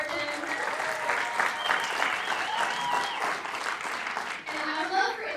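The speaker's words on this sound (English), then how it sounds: "please give a big round of applause to Trevor Martin" Audience applause at a red carpet film premiere, a continuous crowd clapping with cheering and whoops over background music, steady and fairly loud.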